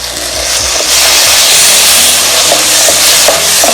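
Ground tomato being stirred into frying spice masala for a fish curry, a steady loud sizzle with scraping spoon strokes against the pan, no voices.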